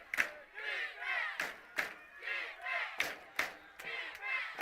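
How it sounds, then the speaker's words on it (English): Caruthersville Tigers home crowd at a high school football game against the St. Gen Dragons, chanting and cheering in rhythmic surges with sharp accented shouts, loud and sustained across the stands. "the Tiger crowd's into it now"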